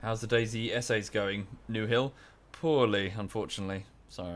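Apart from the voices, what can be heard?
No everyday noises stand out.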